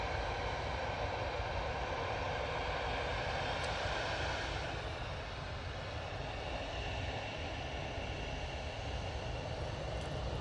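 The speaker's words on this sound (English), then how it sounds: "This is off to Tenerife using an A320-200." Airbus A320-200 airliner departing for Tenerife, its jet engines giving a steady, loud, broad roar that holds throughout with no voices.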